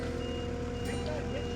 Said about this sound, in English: So in that skid steer, that beeping noise